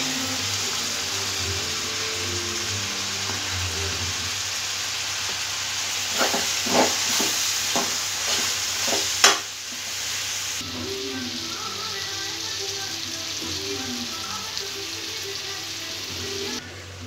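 Chicken pieces with turmeric and chicken masala frying in a pan, a steady broadband sizzle with a short burst of scraping stirring strokes partway through, no talking.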